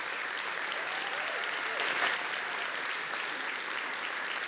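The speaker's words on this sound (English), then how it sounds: "A round of applause, please, for the many," A theatre-awards audience at the Cape Town Theatre Awards claps steadily in a dense, even wash of applause that swells slightly midway, with no talking.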